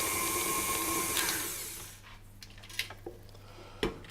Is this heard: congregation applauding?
no